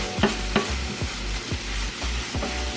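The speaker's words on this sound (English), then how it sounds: "grits do spit back at you. If it's turned up too high, they will pop on you" Grits cooking on high heat spit and pop in the pot, a steady series of sharp little pops and sputters over a low bubbling sizzle, close and fairly quiet.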